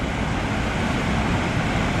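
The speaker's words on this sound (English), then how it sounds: "And there's the waterfall and the actual pool itself." Waterfall pouring into the Tawhai Falls pool, a dense, steady rushing roar of water that stays constant and close with no voices.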